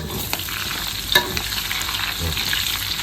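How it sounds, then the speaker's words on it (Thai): Garlic fries in hot oil for a pork stir-fry with curry paste, giving a loud, continuous sizzle broken by one sharp clack of a utensil against the pan, and no talk. "เอากระเทียมตักลงไปทอด นำให้มันหอม"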